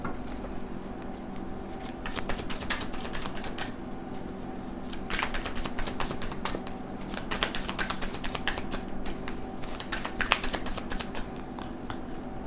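Tarot cards being shuffled and drawn, with repeated dense bursts of riffling card clicks in clusters across the whole stretch, fairly close and moderately loud over a steady low background hum; no talking.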